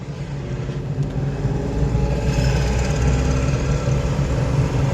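A car engine in a driving lesson rises steadily as the accelerator is pressed after the clutch is released, a continuous loud low drone that climbs slightly in intensity and holds for several seconds with no talk over it.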